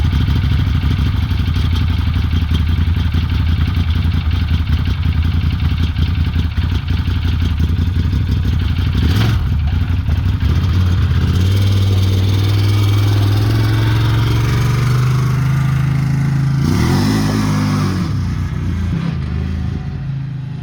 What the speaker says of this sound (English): start these things up and go rip them so these people can see these things in action